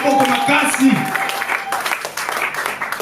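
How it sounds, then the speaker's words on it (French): A church congregation at a thanksgiving service in Kinshasa cheers and claps loudly, an excited burst of shouting and applause that tapers off over a few seconds, with voices mixed in. "Que celui qui a compris acclame fort."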